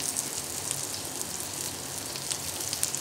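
Scallops fry gently in melted butter in a pan over low heat, giving a steady close crackling sizzle with small pops and no talking.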